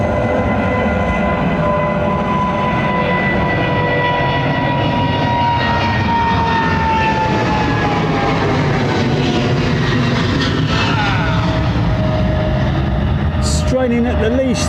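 Jet aircraft engines powering down at London Heathrow Airport in a southerly wind, a loud sustained roar with a slowly falling whine, fairly close, continuing for the whole stretch.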